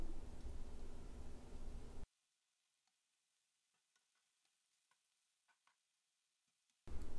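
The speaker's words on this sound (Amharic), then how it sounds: "አሁን ደግሞ መሽሩሙን አስገባና ልክ እንደ ዶሮ ስጋ አጠብሰዋለሁ" Mushrooms frying in a pan for a chicken and vegetable stir-fry give a loud, dense sizzle for two seconds. It drops to near silence with faint scattered ticks, then the sizzle returns abruptly at the end.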